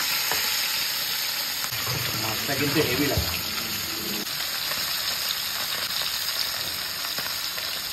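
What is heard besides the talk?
kalbaus fish frying in deep oil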